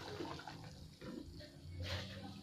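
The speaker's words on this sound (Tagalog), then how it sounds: "Tanggalin lang po natin ang tubig." Water draining off soaked, sliced potatoes while cooking ginisang patatas, a steady splashing pour with gurgling swells, close and moderately loud, no voices.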